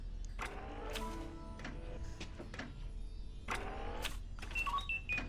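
R2-D2 droid from the video game Disney Dreamlight Valley rolling and crashing into things in a living room, giving a series of short clattering bumps and beeping electronic chirps over a steady low game hum, with no talking.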